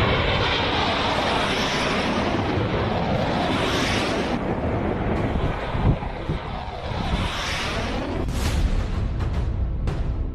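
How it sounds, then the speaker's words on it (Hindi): Indian Air Force fighter jets roar loudly and steadily overhead, a continuous broadband jet rumble with wind buffeting, rising and shifting as the aircraft pass. "भारतीय सीमा के लड़ाकू विमानों की यह गर्जना क्यों है?"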